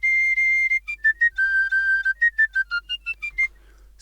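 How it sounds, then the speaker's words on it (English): Sampled tin whistle from a virtual orchestra, a bright, pure tone that opens on a long sustained note, then hops through short detached notes and brief held pitches before fading; alone and close-miked. "It's a tin whistle, but I want it to sound imperfect."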